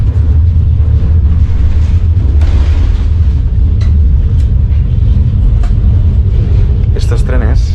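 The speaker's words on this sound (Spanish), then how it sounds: "estoy en un tren porque me voy a Samara desde Moscú" Steady low rumble and rolling noise inside a double-decker passenger train travelling from Moscow to Samara, continuous throughout, with occasional faint clicks and a brief squeal near the end, and a person talking over it.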